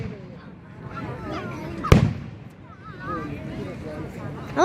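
Fireworks going off behind people outdoors, one sharp loud burst mid-way amid fainter crackles and booms, with people talking throughout.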